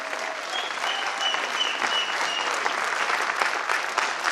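An audience at a seminar bursts into loud, sustained applause, a dense wash of clapping that continues at even strength throughout.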